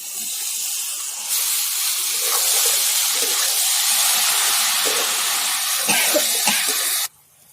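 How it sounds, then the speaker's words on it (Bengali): Chopped banana flower tipped into a hot pan of cumin, ginger, garlic and chilli paste, bursting into a loud, steady hiss and sizzle that runs for several seconds before cutting off abruptly. "এবার মোচা ঢেলে দেব।"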